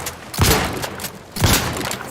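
Gunfire in the video game The Outer Worlds 2 on Xbox Series S: two heavy, booming bursts about a second apart, each with a short rumbling decay, loud and close.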